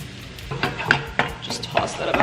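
Egg and onion being stir-fried for fried rice, with repeated scraping, stirring and tossing strokes over a steady sizzle, close and moderately loud, with no talking.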